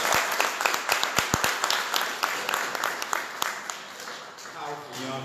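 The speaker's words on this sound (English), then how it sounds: "Let's give him a round of applause." An audience claps in a round of applause for a state representative at a district event, with individual claps distinct at first before settling into a sustained patter, and voices mixing in underneath.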